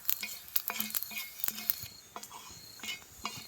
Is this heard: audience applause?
no